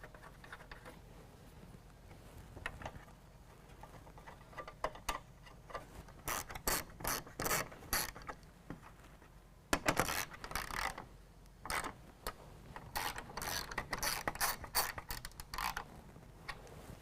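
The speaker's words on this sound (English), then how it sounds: "now we can reinstall our 4 10mm bolts in the top. And then we can go ahead and tighten them down." A hand ratchet tightens 10mm bolts on a Chrome Switchback Projector headlight, with rapid close clicking in repeated bursts separated by short pauses.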